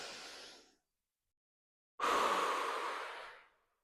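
Deep breathing during a gentle pilates workout: a soft airy breath fades out, then after a short silence a longer, louder exhale swells and tapers away, close and alone.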